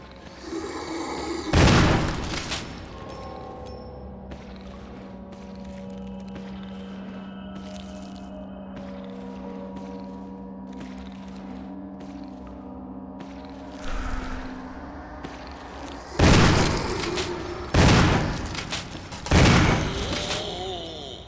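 Gunfire in the survival-horror game Resident Evil 1 HD, playing as Jill: one loud, sharp shot early on, then a quick cluster of three or four heavy blasts near the end over a low, droning ambient hum, with no talking.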